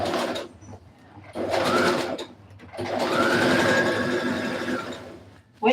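A sewing machine stitches a dress in close, loud bursts: a short run, a pause, a second run, then a longer steady whirring stretch before it stops.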